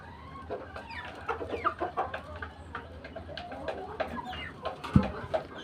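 Soft clucking from a group of broiler chickens on a rooftop garden, with scattered short calls and a brief low thump partway through, steady and close by.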